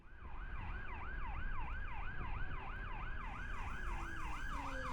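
A police car siren wails in a fast, steady up-and-down cycle as the car comes up from behind on a road. It is moderately loud, with traffic rumbling underneath.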